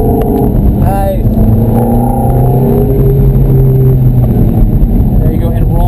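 A Ferrari engine accelerates hard on a race track at Candlestick Park, a loud continuous drone with rising pitch sweeps, heard from inside the car while someone talks over it.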